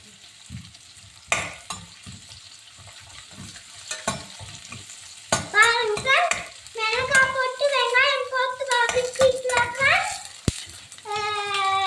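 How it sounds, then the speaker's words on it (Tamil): Wheat semolina (rava) dry-roasted in a pan for upma, stirred with a ladle in soft scraping strokes; later, lively voices and laughter rise over the stirring. "ரவை நல்லா வறுத்துக்கணும்"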